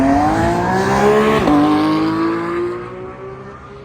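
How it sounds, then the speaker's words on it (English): Ford Raptor truck with a whole lot of horsepower at a Ferrari cars and coffee meet, its engine revving loudly nearby with a rising tone, a brief gear-change dip, then fading as it passes. "The Ford Raptor with a whole lot of horsepower."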